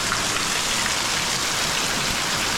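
Heavy monsoon rain in Konkan pours steadily, a thick continuous hiss of drops hitting surfaces nearby, loud and unbroken, with no one speaking.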